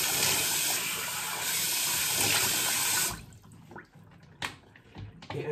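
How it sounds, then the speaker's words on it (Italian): Running water from a sink tap splashes loudly and steadily for about three seconds as a face is rinsed after a shave, then cuts off, leaving faint drips and small handling sounds. "sciacquiamo tutto, sciacquiamo il viso"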